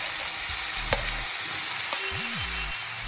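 Chicken sizzling and frying in a hot pan while being stirred, a steady dense crackle with an occasional scrape of the utensil and a faint tonal whine in the background.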